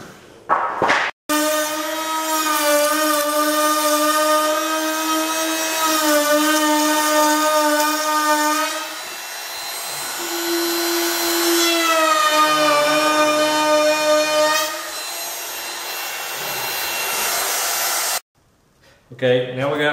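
A router fitted with a chamfer bit cuts wood for a farmhouse window sill, a loud, close, steady motor whine whose pitch dips and rises as it bites, running about seventeen seconds before cutting off.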